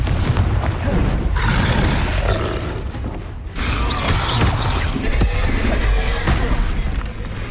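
Confringo spell blasts in Hogwarts Legacy, heard as loud, continuous fiery booms and rumbling impacts. Creaks and roaring effects are mixed in, with one brief dip in the middle before the intense din resumes. Occasional grunting voices come through.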